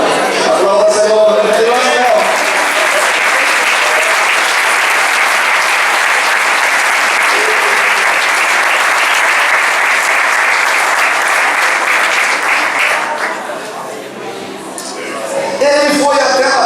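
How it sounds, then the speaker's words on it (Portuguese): A church congregation at a ministerial meeting breaks into sustained applause, loud and steady for about thirteen seconds before it dips and voices begin to mix back in. "Aplauda, Senhor."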